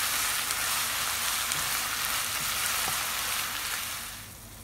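Onions fry in a pan with salt and turmeric, a loud, dense, continuous sizzle close up that fades slightly at the end, with no talking over it.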